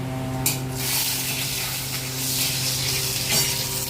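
Whole spices (cinnamon, cloves, cardamom, bay leaf and cumin) sizzle in hot oil, a loud, steady spitting hiss that swells briefly as they go in and then keeps frying close by.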